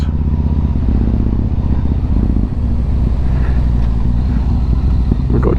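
Yamaha MT-01 motorcycle engine idling and running after a restart, a loud, steady low rumble with a throbbing rhythm and some clattering mechanical noise throughout.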